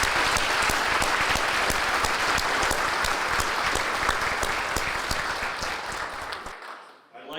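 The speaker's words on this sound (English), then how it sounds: "Please join me in a round of really good applause for all of our sponsors" A luncheon audience applauds the event's sponsors with loud, steady, dense clapping that holds for about six seconds, then quickly dies away.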